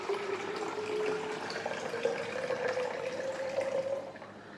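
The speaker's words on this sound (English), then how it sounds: "Fill the pitcher about 3/4 full with water." Filtered water pours steadily into a pitcher close by, the filling note rising gradually in pitch as the level climbs before the flow eases off at the end.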